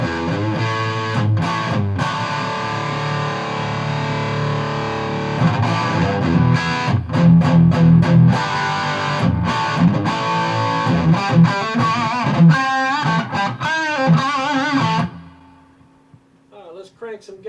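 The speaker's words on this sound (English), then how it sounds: "here's the crunch channel" A Strat played through the crunch channel of a Carvin X100B amp with gain set about halfway, giving sustained distorted chords and choppy strummed bursts for around fifteen seconds before cutting to near silence.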